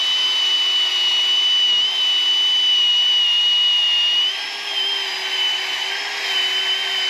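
A power tool spins a pad across a rusty surface, giving a loud, steady whine with a bright high tone that holds for several seconds, then dips briefly and recovers, with no talking over it.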